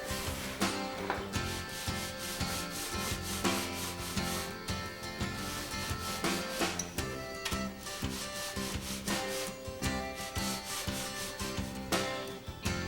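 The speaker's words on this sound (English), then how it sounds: "Edge sand the trim sheets using the Permagrit sanding bar" Steady rhythmic rasping of a sanding bar drawn back and forth along the edge of a balsa trim sheet, close up, continuing throughout with no speech.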